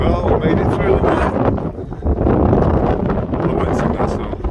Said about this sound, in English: It's incredibly windy.